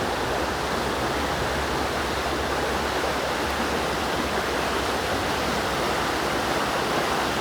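A small waterfall and a stream on a river suited to nymph fishing rush steadily, giving a loud, continuous hiss of flowing water with no break.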